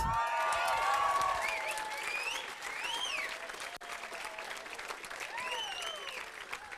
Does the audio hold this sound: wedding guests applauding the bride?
yes